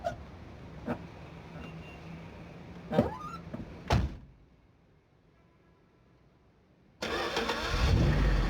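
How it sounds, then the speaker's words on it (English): A car engine cranks and starts within an album track, with a door thunk and a few clunks before a pause, then the engine rumbles loudly into a steady idle near the end. "They're giving me a car sound."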